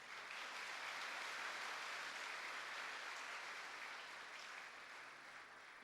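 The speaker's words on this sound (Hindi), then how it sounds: "आप सभी से भी मैं आग्रह करूंगा कि ज़ोर शोर से ताली बजा के पूरे इंडक्शन टीम" Audience applause for an induction team at a valedictory function, a steady dense wash of clapping that holds evenly for several seconds and eases slightly toward the end.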